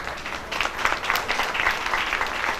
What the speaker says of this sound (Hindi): और एक ताली अभी लालजी सर के लिए करोगे आप